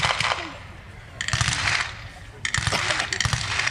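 Bursts of blank machine-gun fire during a tank battle reenactment at Tank Fest at The Tank Museum, three rattling volleys heard at a distance with quieter gaps between them.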